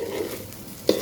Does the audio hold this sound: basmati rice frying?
yes